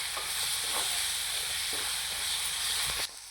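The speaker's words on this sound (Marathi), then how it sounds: "आपण वाटून घेतलेलं हिरवं वाटण टाकून घ्यायचं आणि तेलावर चांगलं असं तेल सुटेपर्यंत आपण ह्याला परतून घेऊया" Green masala paste being sautéed in oil in a pan, a steady bubbling sizzle with a few soft scraping stirs, continuous until it drops away suddenly at the close.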